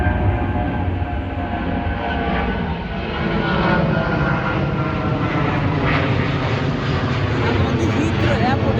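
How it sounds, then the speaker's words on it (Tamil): An airplane flies low overhead near Heathrow Airport, a loud, steady roaring drone that fills the whole stretch without easing. "அடிக்கடி 10-15 நிமிஷத்துக்கு ஒருக்கா அப்படி ஃப்ளைட் பறக்கும்"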